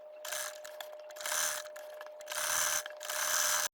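Sewing machine stitching a fabric pocket onto a pinafore top, a close rapid mechanical whir in four bursts separated by short pauses, with a faint steady hum underneath and no talking.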